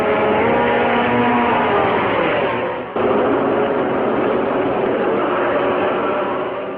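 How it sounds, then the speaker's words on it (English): A racing motorcycle engine, ridden by Valentino Rossi, holds steady mid-range revs at the start line, a loud continuous drone with a brief dip before carrying on evenly. "Bringing the revs up to about midway for the start"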